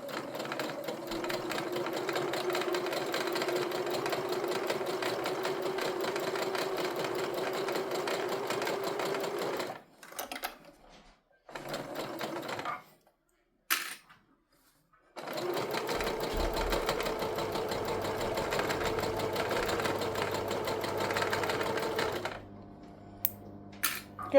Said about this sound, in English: I'm just using the handle on my sewing machine to go over that